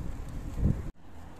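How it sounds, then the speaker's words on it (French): Wind buffets the microphone while cycling along the sea on a bike path near Benicassim, a rough low rumble that swells, cuts out abruptly, then returns more quietly. "le vent me pousse un petit peu"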